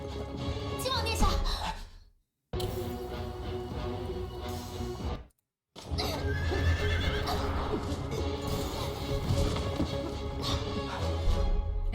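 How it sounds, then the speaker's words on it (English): Horses whinny and hooves clatter in a trampling commotion in the Road to Empress game, with two brief silent gaps between loud, busy stretches and voices and music mixed in. "And a hair ornament got destroyed by a trampling horse."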